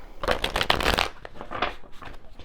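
A deck of tarot cards being shuffled up close: quick riffling and flapping for about a second, then softer, scattered card rustles.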